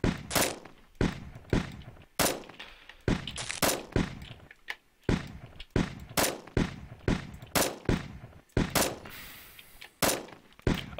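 Double-barrel shotgun fire in a zombie defense video game: a rapid string of sharp, loud blasts, roughly one or two per second over the whole stretch, each with a short decaying tail and no talking.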